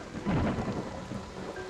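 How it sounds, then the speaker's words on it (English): Rain falls with a soft steady hiss and a low rolling thunder rumble in a brief, faint stretch, set as ambience for a tabletop fantasy game at a dam. "More rain. Rain sounds, thunder, boom, lightning."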